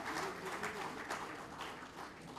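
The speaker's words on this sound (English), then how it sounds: "May we have a round of applause, please, for Justice T.S. Thakur" A crowd applauds at a farewell function at the Supreme Court of India, honouring retiring justices; dense, sustained clapping fills the room throughout, loud and steady with no gaps.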